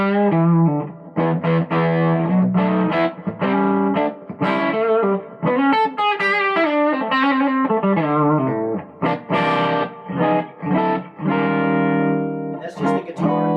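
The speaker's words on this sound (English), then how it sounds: "Just for fun, beautiful reverb." Electric guitar played through a Goodsell Custom V6 amp, chords and single notes ringing out with lush amp reverb tails and a slightly driven tone, loud and close.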